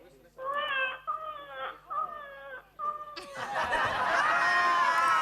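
A woman imitates a baby's cry in four short, wailing bursts, then loud laughter and overlapping chatter take over near the end.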